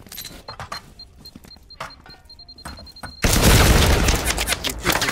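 Flashbang grenade going off in the video game Firewall Zero Hour, a loud sudden blast that cuts in after a few seconds of quieter game sounds and a steady tone, then holds as a dense, sustained roar to the end.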